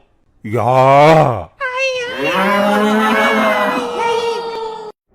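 A cartoon buffalo lets out two loud, drawn-out bellows, a short rising-falling one followed by a longer wavering one, close and clear against silence.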